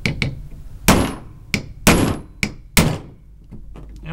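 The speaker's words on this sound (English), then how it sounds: "So we're gonna grab a punch tool and a hammer." Hammer blows on a steel punch driving a hole through a Tippmann 98 paintball gun resting on a table: about six sharp, loud metallic thunks in an uneven rhythm, each ringing briefly, with no voices.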